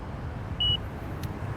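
A single short electronic beep from an Inmotion P6 electric unicycle warning of low battery at 9%, heard over wind and rolling road noise while riding.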